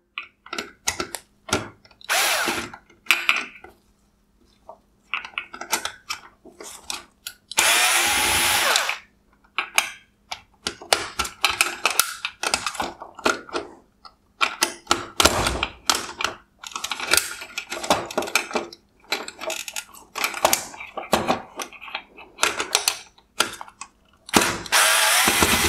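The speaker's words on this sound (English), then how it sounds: "Next, I will remove the two T20 torque screws at the top of the projector." T20 Torx screws are removed from a Mercedes GLE350 LED headlight projector with a power driver and hand tools, giving close bursts of whirring, clicking ratchet sounds and plastic handling noises in irregular spurts.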